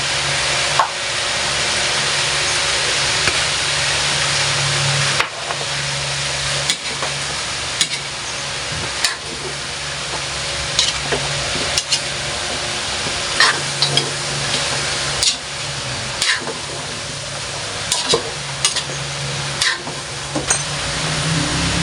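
Cauliflower fries in a pan for Filipino chopsuey, a steady loud sizzle running throughout, broken by repeated scrapes and clicks of stirring, close up with no talking.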